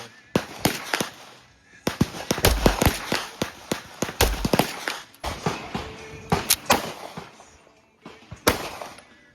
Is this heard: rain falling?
no